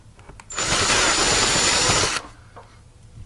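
A power drill with a 3/8-inch bit whines loudly at steady speed for about two seconds while drilling a hole for a rear LED light install on a mower, then stops, with quiet workshop background before and after.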